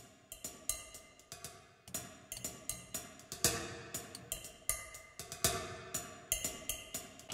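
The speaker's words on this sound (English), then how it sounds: "So this has a bunch of different sticks on cymbals and China cymbals and different clangy" A layer of sticks striking cymbals and China cymbals plays alone, producing rapid, irregular, bright metallic clangs and crashes in a busy rhythm at a moderate level, close and clear.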